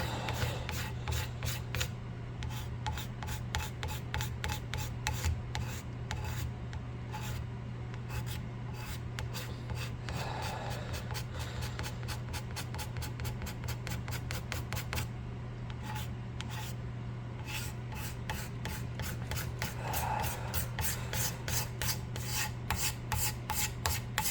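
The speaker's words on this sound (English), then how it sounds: "card scraper here that doesn't have a real good burr on it" Card scraper with a poor burr working a wooden octagon axe handle, giving rapid, evenly repeated rasping strokes close to the ear, steady and continuous throughout with brief pauses, no talking.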